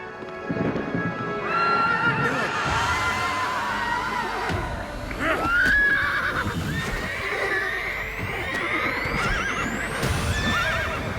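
A horse whinnies loudly and repeatedly over a dense, busy backdrop of hoofbeats and rumbling noise in a French-dubbed animated cartoon.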